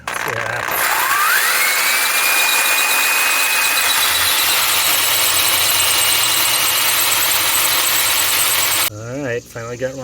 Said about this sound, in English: Alright, finally got my holes drilled.